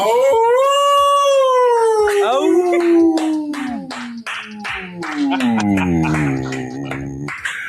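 A man vocally imitates a big dog, drawing out a long, wavering howl that slides downward before breaking into yips and barks, close and loud with no other sounds behind it.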